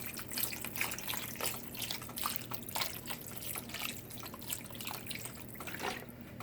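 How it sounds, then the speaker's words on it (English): Mushroom broth is poured into a pan while cooking vegan chick'n and gravy, making a continuous close splashing, trickling wash of liquid that holds steady for several seconds with no speech. "So we're just going to pour it on in."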